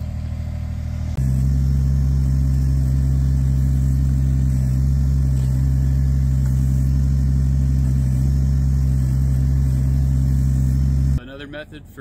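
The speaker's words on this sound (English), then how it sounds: "I've got the little mini backhoe out." A small mini backhoe engine runs at a steady, loud, close rumble while digging a trench for a mini earthship build, droning continuously before cutting off abruptly near the end, with a voice faintly present.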